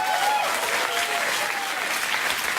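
A studio audience on a late-night talk show breaks into steady, sustained applause, a dense wash of clapping from many hands that holds at an even level throughout.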